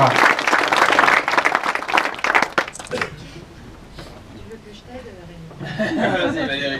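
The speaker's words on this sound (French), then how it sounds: "Je crois qu'on peut l'applaudir, Axel Delaine, un coureur en devenir." Audience applause for a young rider being introduced at a cycling club's team presentation, loud clapping mixed with a few chuckles for about three seconds, then fading under quiet chatter and talk.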